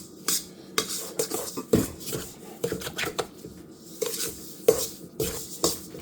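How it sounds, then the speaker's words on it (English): Sugar being mixed into butter in a bowl while making vanilla wafers, with a utensil scraping and clinking against the bowl in uneven strokes, close and fairly quiet. "Incorporate my sugar into my butter."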